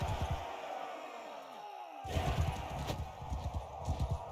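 Horse hooves clip-clopping in Mount and Blade 2 Bannerlord: a rapid irregular stream of hoof thuds, fainter at first, then louder after a brief whoosh, with game ambience behind.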